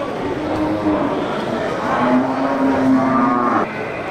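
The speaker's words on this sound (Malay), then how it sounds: "Ya, sapi simental dan sapi Aceh." Simmental and Aceh bulls at a livestock market give loud, drawn-out moos, one short low call early on and a longer one later, over a busy crowd murmur.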